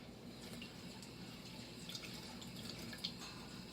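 Cold water poured spoon by spoon into a small container while making Mongolian beef in an Instant Pot pressure cooker, a soft continuous trickle and splash over steady background noise, with no talking.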